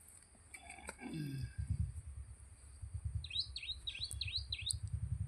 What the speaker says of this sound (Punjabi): ਪੰਛੀਆਂ ਦੀ ਆਵਾਜ਼ ਬੋਲਦਿਆਂ ਦੀ ਕਿੰਨੀ ਪਿਆਰੀ ਲੱਗਦੀ ਹੈ